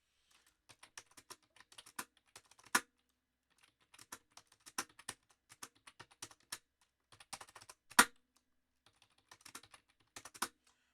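Numbers typed into a calculator in quick, faint bursts of clicky key presses separated by short pauses, with no talking.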